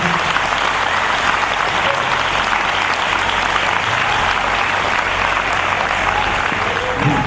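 A large audience applauds at a centennial honor ceremony for a woman being recognised, a dense, sustained roar of many hands clapping, loud and even from start to finish.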